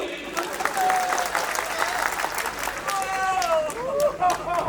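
Audience applause at a public speech, a sustained burst of clapping from a large crowd with voices and a few tonal sounds mixed in, loud and continuous throughout.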